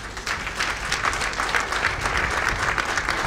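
An audience applauding at a book launch event on customs offence litigation, steady sustained clapping from a crowd filling the room.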